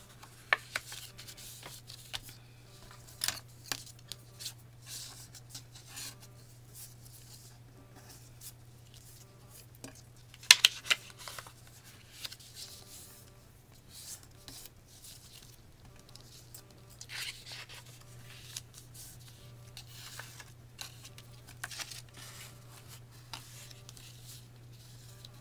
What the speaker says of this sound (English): Okay, now fold on your score lines.